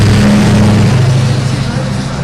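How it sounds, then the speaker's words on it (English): Street traffic rumbles steadily outside a Christmas window display at a department store, a continuous low engine drone from passing cars filling the scene, fairly loud and close. "There's a lot of traffic."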